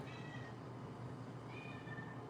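A pet cat gives two thin, plaintive meows that sound like a distress cry, heard faint and somewhat distant in a quiet room, the second call longer and wavering.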